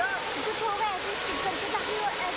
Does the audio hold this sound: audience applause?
no